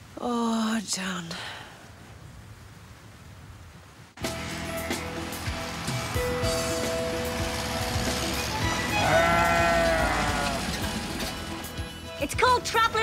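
Sheep bleating on windswept Achill Island, several calls rising over steady wind and background noise, with people talking nearby.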